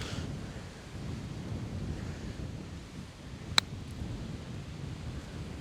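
Wind sweeps across an open golf course during short-game practice, a steady rumbling gust buffeting the microphone, with one sharp click partway through and no voices.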